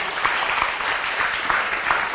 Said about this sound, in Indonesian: Tepuk tangan loh.